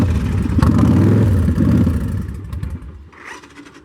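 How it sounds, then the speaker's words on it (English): A 2005 Victory Kingpin motorcycle, a cold-blooded bike with under 10,000 miles, revs loud and close through its exhaust pipes in a deep rumbling burst before the engine note drops back toward idle. "We'll go ahead and play the pipes for you."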